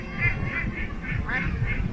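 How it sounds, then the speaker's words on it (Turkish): Ducks at a caravan park in Konya Karatay quack in a quick series of about six nasal calls, close by over a low outdoor rumble. "Ördek bunlar ya."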